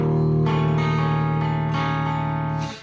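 A guitar plays a repeating one-measure chord riff, loud sustained strummed chords restruck in a steady rhythm about every half second and ringing out at the end.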